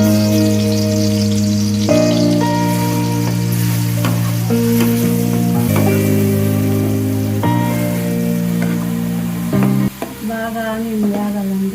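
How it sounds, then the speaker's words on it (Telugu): Onion paste frying in hot oil in a pan for a moringa chicken curry, a steady loud sizzle running throughout with stirring scrapes, under a strong tonal music layer. "బాగా ఆనియన్ వేగాలండి"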